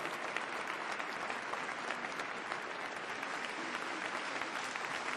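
Dense, steady applause from a live concert audience for a band, a continuous wash of many hands clapping at even loudness throughout, with no music or talk over it.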